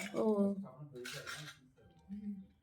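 Metal dishes clatter and clink together close by, a few bright scraping knocks with a brief voice murmuring among them.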